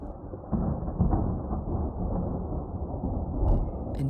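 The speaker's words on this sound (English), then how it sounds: "Up above, thunder snow with flashes of lightning." Thunder snow booms during a lake effect snowstorm in upstate New York, a low rolling rumble that swells and lingers, heard alongside wind and road noise from a car driving through whiteout conditions.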